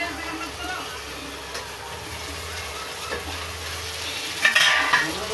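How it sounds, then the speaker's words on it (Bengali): Chicken and potatoes sautéed in a pan for a chicken aloo gravy, a soft sizzle under repeated stirring and scraping, with a louder clatter near the end and a voice speaking briefly. "এই জন্য এটা ভালো করে একটু কষে নেব।"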